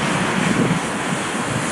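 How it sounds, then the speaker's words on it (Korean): Large waves driven by Typhoon Mitag crash over a breakwater in strong wind, a dense, continuous roar of surf and buffeting gusts filling the short stretch without pause. "강한 바람에 커다란 파도가 방파제를 넘습니다."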